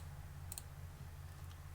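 Computer mouse clicks while working in ZModeler: a quick double click near the start, then fainter clicks later, over low steady background hum.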